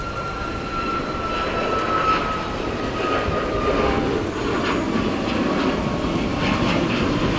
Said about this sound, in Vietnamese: mời mọi người chiêm ngưỡng pha cất cánh của chiếc Boeing 737 MAX này.